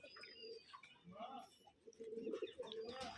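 Pigeons coo softly and repeatedly amid other bird chirps, with a faint voice talking in the background.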